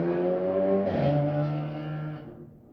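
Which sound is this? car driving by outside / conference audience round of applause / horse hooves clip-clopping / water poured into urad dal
car driving by outside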